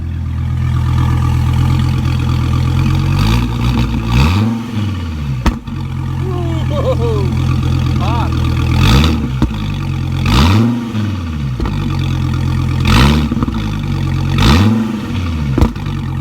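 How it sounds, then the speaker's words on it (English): A 2017 Dodge Viper idles with a deep, loud, burbling exhaust, then is revved in about six short blips, each rising and falling back to the steady rumble. "here's the great thing about a Viper is that I can get an exhaust note from the driver's seat."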